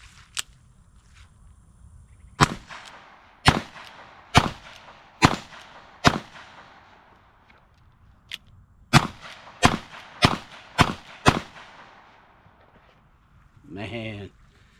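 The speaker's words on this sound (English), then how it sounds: "I'm gonna be shooting at one of my other targets." Gunshots from 1871/1872 open-top revolvers chambered in .45 Colt, about eleven sharp loud reports fired in two uneven strings with short pauses, ending with a brief burst of noise.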